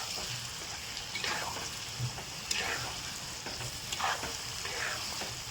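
A masala of chopped tomato and whole garlic is fried down in a pan, giving a constant soft sizzle. Occasional stirring scrapes and small wet pops come through, and no one talks.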